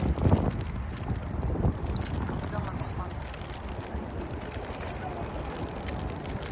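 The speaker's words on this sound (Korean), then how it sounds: "오늘 바람이 너무 많이 불어" Strong wind gusting across the microphone outdoors during a bicycle ride along a riverside path, a steady broadband rumble and buffeting from start to finish, loud and close, with occasional faint voices mixed in.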